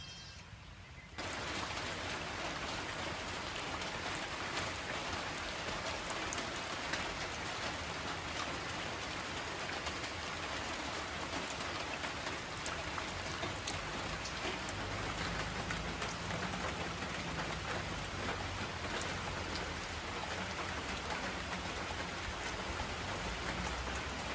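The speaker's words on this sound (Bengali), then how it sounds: "খুব বৃষ্টি- বৃষ্টি নামলো" Heavy rain pours steadily in a dense, continuous hiss that starts abruptly and keeps going without pause.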